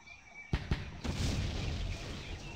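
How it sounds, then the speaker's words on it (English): Mortar rounds strike in the John Tiller Campaign Series war game, Rising Sun: two sharp booms in quick succession, then a third, trailing into a low rumbling roll of distant explosions. "See these mortars hitting."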